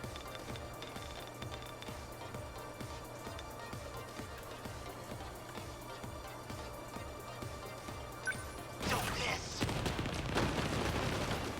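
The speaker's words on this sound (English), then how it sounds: "we've got missiles coming up above" Incoming missiles in the video game 13 Sentinels: Aegis Rim: a steady, rapid barrage of rattling impacts and bursts runs throughout, then swells into a louder, denser blast of explosions near the end.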